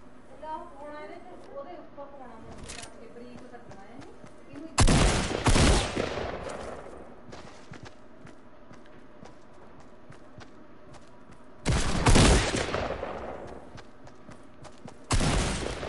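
Submachine gun fire in a video game comes in three loud rapid bursts separated by quieter stretches, with a voice talking early on.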